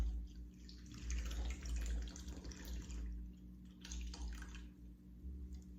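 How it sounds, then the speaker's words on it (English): Steady liquid pour of a can of evaporated milk streaming into a pot of fudge mixture, soft and close, lasting several seconds with a brief lull midway before resuming. "And then I'm going to add 1 can of evaporated milk."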